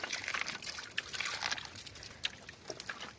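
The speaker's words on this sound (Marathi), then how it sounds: "असं गडूळ पाणी काढून घ्यायला लागतं" Muddy water is scooped out of a hand-dug spring in hilly shepherd country, giving soft pouring and trickling splashes in short bursts close by, with no voices.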